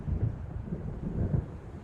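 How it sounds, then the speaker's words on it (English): Low, rolling thunder from an approaching storm in the Alan Wake video game, a continuous deep rumble with swelling pulses, steady and moderately loud, with no voices. "It seems there's a storm coming."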